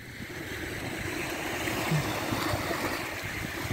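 Sea waves at Arenal beach in Mallorca make a steady soft wash and hiss of water, with faint bright calls breaking through now and then.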